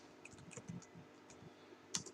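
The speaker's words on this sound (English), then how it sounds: "I'll type it out" Quick, light keystrokes on a computer keyboard, a short run of irregular taps with one sharper click near the end, close and fairly quiet.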